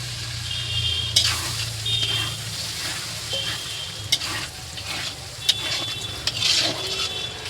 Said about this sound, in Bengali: একটু জল দেব, দিয়ে দেবো ক্যাপসিকাম আর পেঁয়াজ,